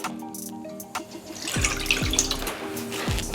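Milk is poured into a bowl of wet ingredients with eggs for apple fritter batter, a steady liquid stream splashing close by after a quiet start, with no talking.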